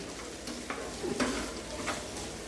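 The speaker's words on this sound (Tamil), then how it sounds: "இது நல்லா வதங்கி வரட்டுங்க" Vegetables sauté in a pan with a soft, steady sizzle, broken by a few scraping stirs of a utensil partway through; no talking.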